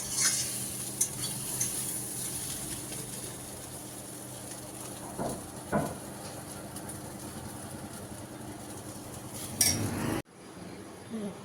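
Bitter gourd and potato slices fry in oil in a home kitchen pan, sizzling steadily while a utensil scrapes and clinks against the pan in scattered strokes. The sizzle cuts off abruptly near the end.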